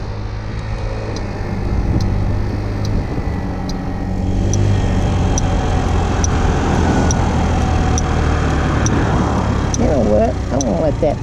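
Road traffic passes near a scooter on a street by a bank, with a loud broad engine and road roar that grows steadily, and voices talking over it.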